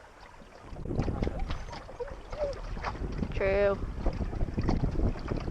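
A sailboat moving under wind, with steady wind buffeting the microphone and water rushing along the hull. People talk throughout, and there is a brief tonal squeal near the middle.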